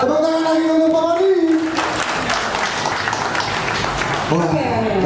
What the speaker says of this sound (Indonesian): Tepuk tangan lagi untuk Pak Wadi.